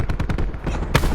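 A KAP 45 firing from the hip in Black Ops 4 rattles out a rapid, steady burst of close, punchy shots, ending with a sharper final crack.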